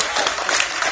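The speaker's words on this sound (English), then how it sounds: "Give her a round of applause." A crowd breaks into a brief round of applause, a dense burst of many hands clapping loudly and close for about a second.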